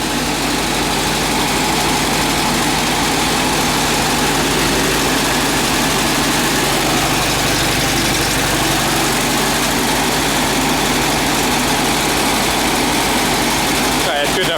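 Up close, the engine of a 1954 VW Beetle idles with a loud, steady, rumbling chug and constant vibration, while someone talks over it.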